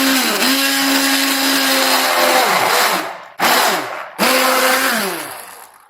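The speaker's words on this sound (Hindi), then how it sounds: "अब इन सबको ग्राइंड कर लेंगे।" A blender grinds lemon juice, fresh mint and sugar into a drink, a loud steady whir that winds down and restarts in two short bursts near the end.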